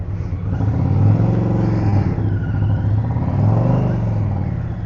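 A motorcycle rides off down a road toward Houston, Texas, its engine a loud, steady, close drone that holds for the whole stretch.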